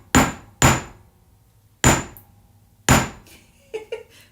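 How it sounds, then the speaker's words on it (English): Four sharp hammer strikes on a faux turquoise resin-free jewelry piece being flattened, irregularly spaced and close, with a few lighter metallic taps at the end. "we're just going to hammer this so that it's more flat and we're not really seeing any gaps"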